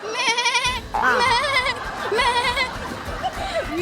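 During a game-show forfeit, a person imitates a goat, giving loud, wavering, nasal bleats in three or four bursts, with lively chatter and laughter around.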